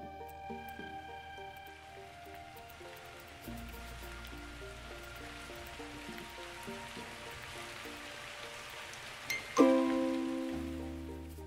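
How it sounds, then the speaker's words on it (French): Steady synthetic rain falls in a forest setting of a video game, a soft even hiss under a layered musical score with sustained tones, ending in a brighter chime and swell. "Bon, apparemment, il y a de la pluie, là."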